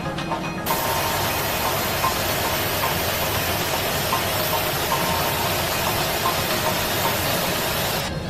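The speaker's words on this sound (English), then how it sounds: "Starting first engine. Starting number 1." An airliner's number one jet engine spools up at Changi airport, a loud, steady roar and hiss that begins abruptly and holds constant, heard from inside the cabin.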